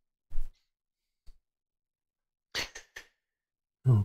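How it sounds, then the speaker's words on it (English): Someone sneezes during a World War I game session: a soft intake, then a couple of sharp bursts and a final loud sneeze close to the mic, with quiet gaps between. "Ooh, I'm going to sneeze."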